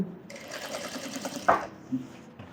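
A sewing machine stitches a scalloped blouse in a steady whirring run of about a second, then stops with a faint click or two.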